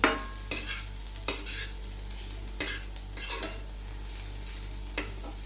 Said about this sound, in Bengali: আমি এদিকে এটা নাড়ছি